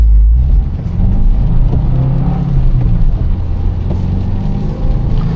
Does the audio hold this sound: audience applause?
no